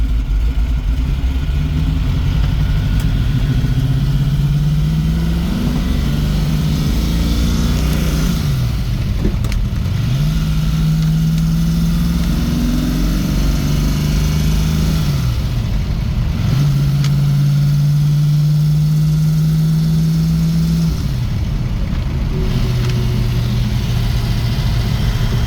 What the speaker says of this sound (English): rattly sounding engine